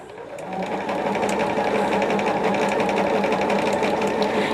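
A sewing machine runs steadily, stitching a quarter-inch seam around a pinned quilt, a close, continuous rapid mechanical whir that starts slightly softer and holds loud and even to the end.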